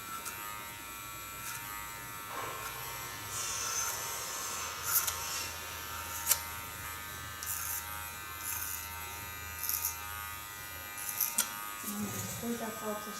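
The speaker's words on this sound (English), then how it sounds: "I play a lot in between with the blades of my clipper" An electric hair clipper buzzes faintly and steadily in a salon during a haircut, with brief clicks and small rises as the blades work, while a person talks over it.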